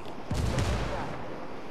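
A frag grenade goes off in the shooter game Ghost Recon Wildlands: one heavy, close boom with a rumbling tail that fades out.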